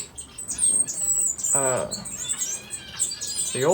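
Diamond firetail finches chirp and twitter in quick, high bursts, with several thin calls overlapping close by against a faint background hum.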